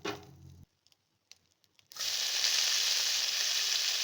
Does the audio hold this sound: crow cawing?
no